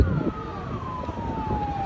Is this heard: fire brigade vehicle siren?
yes